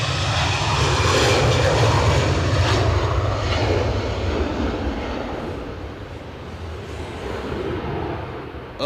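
An EasyJet jet airliner takes off at Edinburgh Airport on a windy day. Its engines give a loud, steady roar at the start, then fade slowly as the plane climbs away, with no talk over it.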